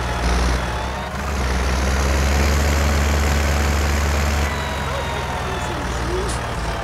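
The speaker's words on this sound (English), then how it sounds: "Let's take this tractor back over here, though." An old farm tractor's engine runs steadily close by with a deep, continuous low rumble and chugging idle that holds throughout, with no talk over it.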